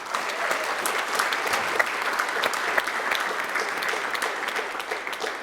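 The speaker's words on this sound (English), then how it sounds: "Can we give a round of applause for the youth?" A room full of people claps for youth at a Justice Ambassadors graduation ceremony, sustained and fairly loud applause with scattered sharper claps throughout.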